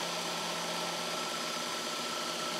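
A Worksharp belt grinder with a blade grinding attachment running steadily, a dense, continuous whirring hiss with a faint low hum, close and unchanging, with no voices.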